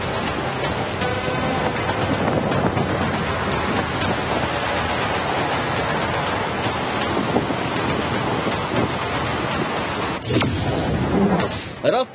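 The flooded Mej river in the Bundi area after heavy monsoon rain roars as a loud, dense, unbroken rush of water, with a short burst of wind buffeting near the end.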